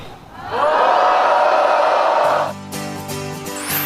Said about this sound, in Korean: 전방을 향해서 5초간 함성 시작!